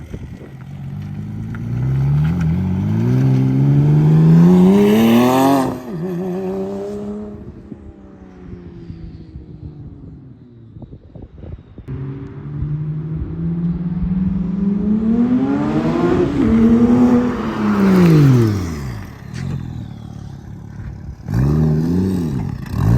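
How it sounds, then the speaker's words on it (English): A twin-turbo Porsche Cayman S 987.1 fitted with an MRN TT kit revs and accelerates loudly up close, its engine note climbing and falling in repeated long pulls, with gear-change dips between surges. "How's the Porsche driving so far? Pretty loud, pretty sideways."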